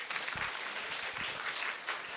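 An audience claps at the close of a city development forum presentation on carbon neutrality in a hall, a dense, sustained round of applause throughout.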